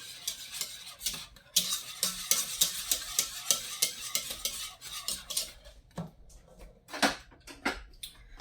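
A whisk beats quickly against the inside of a pot in fast, rhythmic metallic clicks and scrapes. The sound is close, pauses briefly, then resumes in short bursts near the end.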